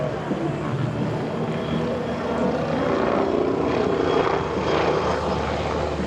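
Steady engine drone from a Red Bull aerobatic airplane performing at EAA AirVenture 2024, a continuous loud roar with slight rises and falls in pitch, heard alone without talk.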